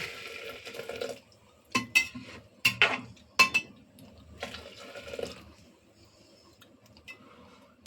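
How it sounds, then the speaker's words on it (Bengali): Boiling water poured into mung dal for a fish-head dal, a gurgling splash at the start, then several short clinks and knocks of a pot and utensil, a second pouring burst midway, fading to quiet. "এবার আমি এই জলটা ডালের মধ্যে দিয়ে দিচ্ছি"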